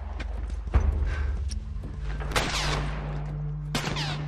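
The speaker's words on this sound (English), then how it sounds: "Wait, who's shooting?" Gunfire rings out in The Last of Us, a few sharp loud cracks with echoing tails spread across a few seconds over a steady game background.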